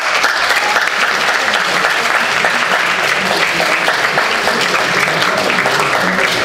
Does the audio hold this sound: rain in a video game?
no